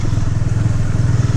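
A motorcycle rides a rough mountain road, its engine a loud, close, steady low rumble with constant clatter and bumps from the uneven ground.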